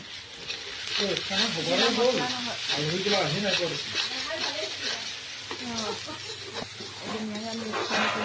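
A spice paste of ground tomato, ginger, garlic and chilli pepper sizzles and fries in a kadai with a steady, close hiss, while voices talk over it throughout.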